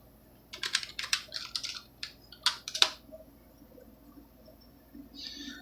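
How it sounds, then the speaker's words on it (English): A password is typed on a computer keyboard in quick bursts of crisp key clicks, several rapid clusters followed by a pause and a last faint patter, close and fairly quiet against a soft background hum. "I'm going to type in my password."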